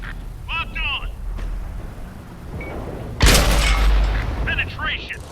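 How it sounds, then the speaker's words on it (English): Tank cannon firing and penetrating an enemy tank destroyer's side in World of Tanks on console: one loud, sharp boom with a rumbling tail, between electronic game beeps and chirps. "Nice side shot into the tank destroyer."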